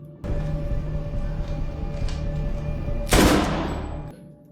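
A burst of gunfire from The Last of Us TV episode, one loud sharp crack about two-thirds through, over a steady low background hum.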